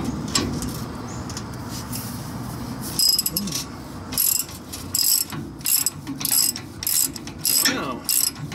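A hand wrench ratchets loose the leveling jacks on a large travel trailer, producing repeated bursts of metallic clicking separated by short pauses, fairly close and moderately loud over a low background hum.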